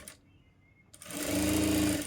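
A sewing machine stitching a blouse, set to stitch length number 5. It starts after a brief quiet moment and runs steadily with a loud, fast mechanical whir and hum, close up.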